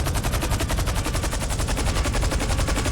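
Rapid automatic gunfire in the GTA 5 video game, a fast, even stream of loud shots packed close together and running without a break for the whole stretch.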